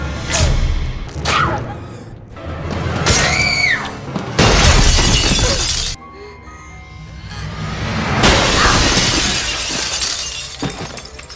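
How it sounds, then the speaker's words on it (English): A glass coffee table shatters during a horror film scene, with loud crashes and bursts of breaking glass, heavy thuds and whooshes, and scattered debris layered over tense film sound. "She's throwing herself into glass tables"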